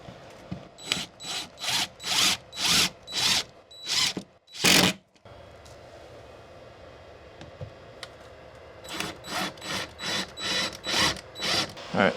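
A power drill drives screws into drywall anchors, repeated short whirring bursts in quick succession, a pause with one long burst, then another run of rapid pulses, close and loud.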